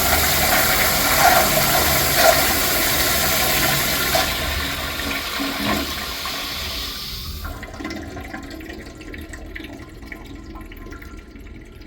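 An American Standard Cadet 3.5-gallon toilet on a flushometer flushes with a loud, rushing, powerful roar of water lasting several seconds, then tapers into a quieter gurgling refill.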